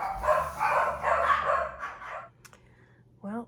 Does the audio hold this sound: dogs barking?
yes